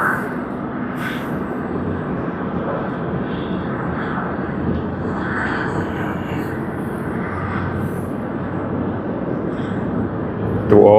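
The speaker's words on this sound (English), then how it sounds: "this is the 747-8 of Lufthansa, registered as DABYT" A Lufthansa Boeing 747-8 at snowy Tokyo Haneda Airport produces a broad, steady jet engine roar, heard from a distance and sustained throughout.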